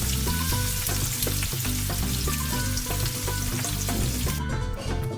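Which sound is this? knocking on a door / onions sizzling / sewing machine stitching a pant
onions sizzling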